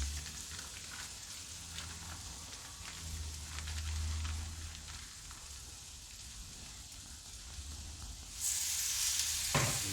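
Marinated pork tenderloin sizzles steadily in a hot pan, a soft continuous crackle and hiss that swells louder toward the end.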